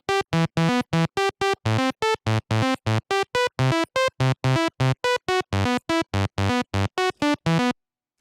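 A synth lead sample from a Seven Skies pack plays a fast, choppy staccato pattern of bright, buzzy notes, loud and alone, then stops abruptly.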